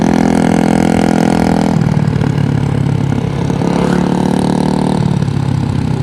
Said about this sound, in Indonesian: Motor Vario Tekno.